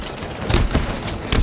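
Rapid bursts of gunfire in a Halo Infinite match, a few sharp close shots and booming thuds packed into a short, loud stretch.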